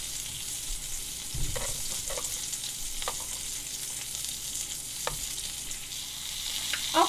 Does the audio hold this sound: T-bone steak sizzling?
yes